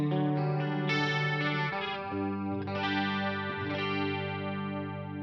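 A clean electric guitar plays sustained chords with a shimmering, wavering chorus effect, ringing clearly with no voices.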